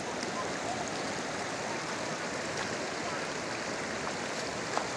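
Steady rushing of a flowing stream at a tourist spot, a continuous broadband wash of water that stays even and close throughout, with no voices.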